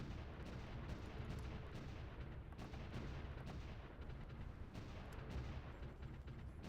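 Continuous low rumbling barrage of artillery rounds landing in the World War I strategy game Supreme Ruler: The Great War, dense overlapping booms at a steady level with no talk.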